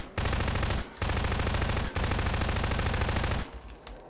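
Rapid automatic gunfire firing void essence bullets in a video game, loud and continuous in three long bursts separated by brief gaps, then trailing off into quieter thuds.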